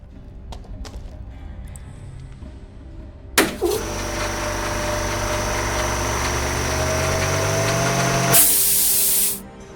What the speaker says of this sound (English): I'm not going to make any progress by blasting air through the crack.